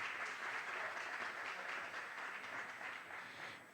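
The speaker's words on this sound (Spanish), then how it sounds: "Un aplauso, por favor." An audience at a book presentation at the 2015 FLA book fair applauds with continuous, even clapping from many hands, distant and soft throughout, trailing off slightly at the end, with no voices over it.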